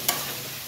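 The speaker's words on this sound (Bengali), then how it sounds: "সবজিটা কষে কষে কষে কষে একদম সবজির যেটা জ্যান্ত ছিল মেরে দিয়েছে, পুরো সব মার্ডার হয়ে গেছে কড়াইতে" Vegetables being stir-fried in a kadai give a brief sharp scrape of stirring near the start, then a steady close sizzle of frying with no voices.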